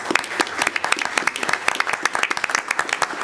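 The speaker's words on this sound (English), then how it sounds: "Just want to Yes. clap for those principals" Applause at a school board meeting for school principals, a room of people clapping steadily and briskly, dense overlapping claps at moderate distance.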